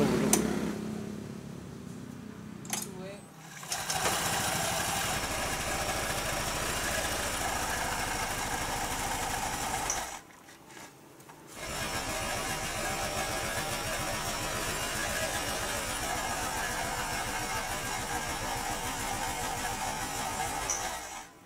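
Yamaha Freego Xeon scooter engine idling steadily up close, a continuous mid-pitched hum that drops away briefly partway through before resuming, with no talk over it.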